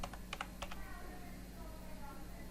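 Rapid clicking of keys on a computer keyboard while a website address is typed, a burst of close, crisp taps near the start that thins out, over a steady low room hum.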